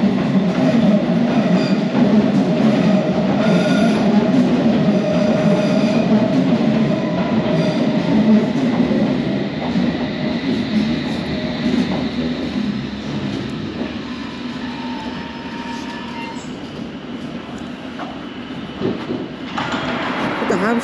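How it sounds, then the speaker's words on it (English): A London Underground District Line train bound for Upminster rumbles loudly through Whitechapel station, a steady close roar of wheels and carriages that eases slightly toward the end. "Now, the District Line for Upminster."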